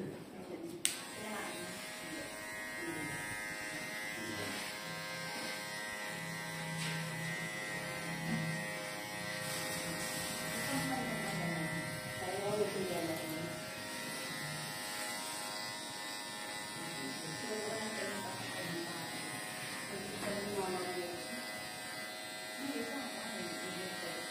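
Electric hair clippers shave an undercut for a long-hair-to-short-bob cut, giving a steady buzzing whine throughout with people talking over it.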